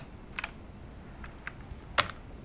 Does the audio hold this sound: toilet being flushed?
no